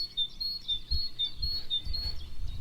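A great tit sings outside a window, repeating a high, thin two-note phrase steadily and at moderate distance while low indoor rustling and muffled sounds go on underneath.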